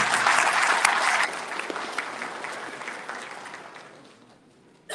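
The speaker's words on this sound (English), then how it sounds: "Please give a big round of applause to the teachers and the administrators of the CPSA." Applause from a graduation audience at a junior high ceremony, honoring teachers and administrators; a dense, loud wash of clapping that thins and fades over several seconds, with no voices.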